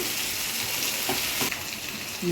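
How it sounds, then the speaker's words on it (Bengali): Chicken and potatoes frying in a pan, with a loud, steady broadband sizzle throughout and a brief louder surge near the middle as water hits the hot oil, no voices. "এবার আমি জলটা দেবো"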